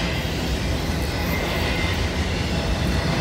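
A freight train with loaded auto rack cars rolls past close by, giving a loud steady roar and rumble of wheels on rail that holds unbroken throughout, with no talk.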